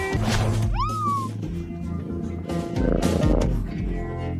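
A kitten gives one clear, rising meow near the mic over steady low background noise, with a few softer mewing sounds after it.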